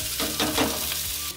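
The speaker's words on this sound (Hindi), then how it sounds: "प्याज हल्की सी भुन जाएगी उसके बाद बाकी की ये सब्जियाँ डालेंगे" Chopped onions and cumin seeds sizzle in hot ghee in a kadai, a steady close frying hiss with a few brief stirring scrapes, no voices.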